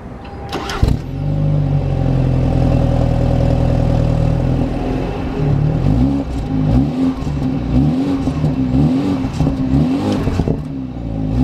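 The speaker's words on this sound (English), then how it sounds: "let me get y'all this exhaust note real quick" A 2018 BMW 330i xDrive engine cranks and catches, then settles into a loud, steady exhaust drone before a series of rising and falling revs blips the throttle repeatedly, close by with no talking.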